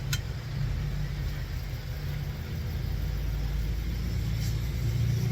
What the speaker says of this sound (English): Got a nice truck that just drove by.